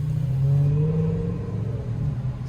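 An old Ford Mustang accelerates away, its engine a loud, steady low rumble that rises slightly in pitch and then holds through the short stretch, with no talking over it.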